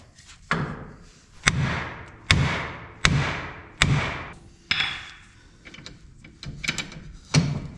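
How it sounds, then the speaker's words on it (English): A heavy hammer strikes the steel steering knuckle of a Can-Am KRX side-by-side to free the ball joint, with about eight loud, ringing metallic blows spaced roughly a second apart, up close. "take a BFH and hit here on the knuckle"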